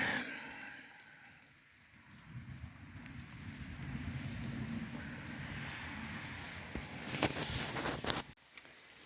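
Steady rain falling outdoors and strengthening, a dense hiss with gusts of wind noise, a few sharper knocks near the end and a brief drop-out before it resumes.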